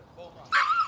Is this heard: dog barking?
yes